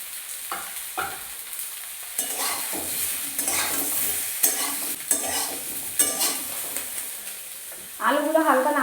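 Potatoes sizzle in a pan of oil where brinjal was fried first, for a shukto, with a spatula repeatedly scraping and stirring them in close, steady strokes and no talking.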